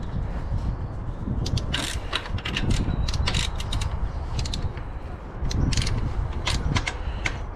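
A ratchet clicks in quick, uneven bursts while backing down the idler pulley tensioner on a K20/K24 engine in an EG hatch K-swap, close and crisp over a low outdoor rumble.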